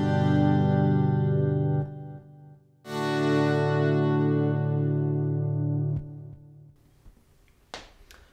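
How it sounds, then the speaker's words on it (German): Electric guitar run through a volume pedal and echo effect: sustained notes swell in smoothly, ring out, fade, then swell again, with echoing repeats trailing off and a few faint string taps near the end. "Dann habe ich hier wieder mein Volumenpedal, was ich auch mit dem Echo zusammen benutze. Kann so die Sounds reinfahren."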